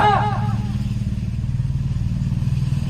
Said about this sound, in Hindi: मोटरसाइकिल से मोटरसाइकिल भिड़ रही है, पावर बाइकें चला रहे हैं